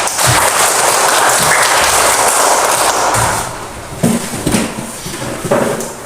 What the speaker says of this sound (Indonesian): Terima kasih ya, kita tepuk tangan.